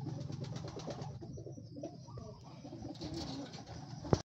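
Pigeons coo repeatedly at a racing-pigeon loft, soft throaty calls layered over a low background hum, with a sharp click near the end.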